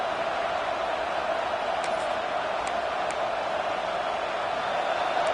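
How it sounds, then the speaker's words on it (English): In a college football video game, Tennessee against South Carolina, a stadium crowd roars loud and unbroken at a goal-line moment, with a few faint ticks on top. "This offense trying to quieten the crowd on 1st and goal, and they are not cooperating."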